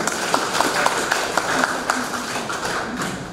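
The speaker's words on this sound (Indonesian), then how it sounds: "Sekali lagi mari kita berikan tepuk tangan yang mulia." Applause at the inauguration ceremony of a vocational high school in Labuan Bajo, a light scattering of individual claps tapping out over steady room noise, moderately close and not very loud.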